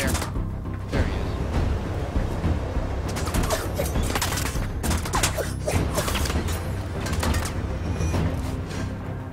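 Rapid pistol gunfire and clicking weapon mechanisms from the Warframe video game, a dense, busy stretch of shots and mechanical clatter over a steady rumbling game backdrop.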